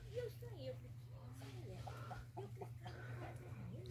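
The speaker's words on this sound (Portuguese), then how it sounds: "Ó, um galo ali lindo." A rooster clucks in short, low, bubbling calls at a rural home, fairly faint and mixed with a person talking, over a steady low hum.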